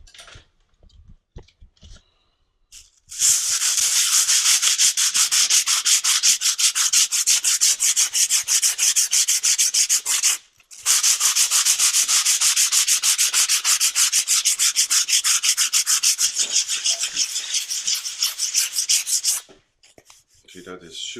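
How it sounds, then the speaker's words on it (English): Old sandpaper rubbed back and forth over wood for a smooth finish, a steady rapid scratchy rasping that runs loud and close in two long bursts with a brief pause between, and no talking. "Give it a little try now with a old bit of sandpaper."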